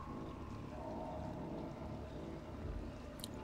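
Running water in the video game Little Nightmares, a steady low rushing wash that fills the whole stretch evenly, with no talking.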